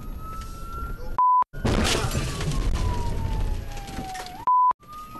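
A loud ambulance siren wails, sweeping slowly downward under heavy crackling noise, bracketed by brief steady electronic tones.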